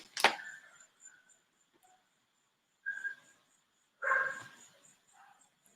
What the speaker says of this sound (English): I could see why the dog was barking